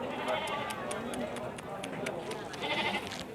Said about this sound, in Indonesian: Ini domba, saudaraku, gembel.